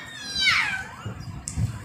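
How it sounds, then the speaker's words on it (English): A cat gives a single clear, drawn-out meow up close, followed by a couple of faint soft sounds. "How does a cat sound?"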